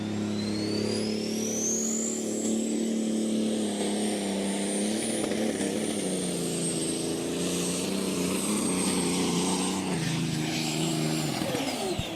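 A diesel superstock pulling tractor in a Dutch tractor pull roars loudly and continuously, with a high turbo whine rising over a dense engine drone that dips near the end.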